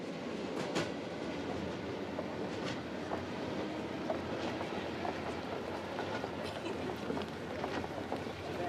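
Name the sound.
train on the Trans-Siberian Railway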